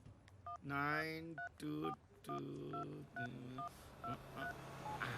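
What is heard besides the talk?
telephone dialing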